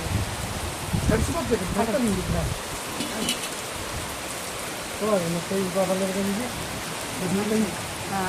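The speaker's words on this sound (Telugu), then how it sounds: "లోనకు రా వాన కార్తీక్" Steady rain falls outdoors as a continuous hiss throughout, with people talking over it at several points.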